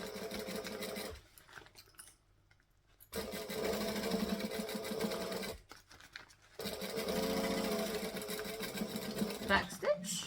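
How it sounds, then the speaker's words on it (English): A sewing machine stitches a fabric panel through two layers near the edge in steady whirring runs, with two brief pauses between runs, and a person talks over the machine noise. "you want to try and stitch as close to the edge as you can while still getting both the layers"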